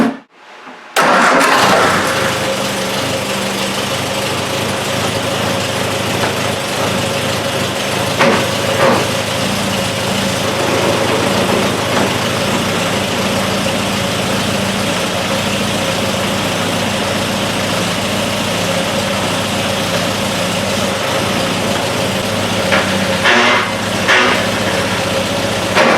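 A restored Roundtail car sitting on jack stands starts with a short crank and catches, then idles steadily and loudly up close for a long stretch with slight fluctuations.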